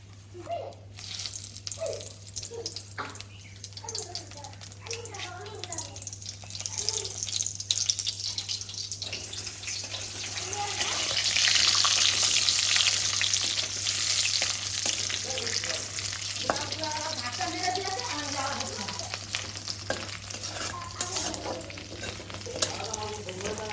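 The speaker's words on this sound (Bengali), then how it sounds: "তেলের উপরে ফোড়ন দেওয়ার জন্য তেজপাতা, শুকনো লঙ্কা, গোটা জিরে তেলের উপরে দিয়ে দেবো।" Bay leaf, dried red chilli and whole cumin seeds tempering in hot oil for a green jackfruit curry, giving a steady close sizzle with scattered crackles that swells to a louder hiss midway, alongside stirring and occasional running-water sounds, with no talking.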